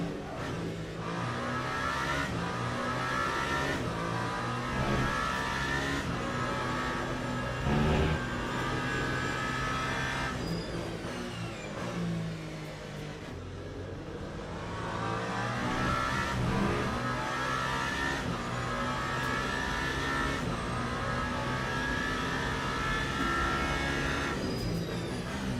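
Race car engine held at full throttle in Le Mans Ultimate at Bahrain, a loud sustained high-revving drone with gear changes and brief dips in pitch, continuous and close throughout, no talk.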